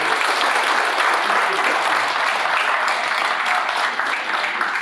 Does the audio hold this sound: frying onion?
no